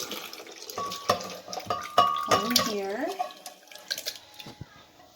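Salsa verde is poured onto cheese-stuffed chiles rellenos, giving a wet splashing and trickling pour with scattered kitchen clatter, heard close under a voice speaking briefly.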